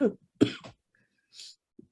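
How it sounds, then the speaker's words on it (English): Two close, harsh coughs in quick succession, followed by a short breathy exhale and a tiny throat sound. "Still got that lingering cough, eh?"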